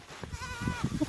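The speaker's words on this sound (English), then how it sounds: "I feel like the goats are saying Tay too." Goats on a Jamaican countryside farm bleat in a few short, wavering calls, fairly faint with a little background noise around them.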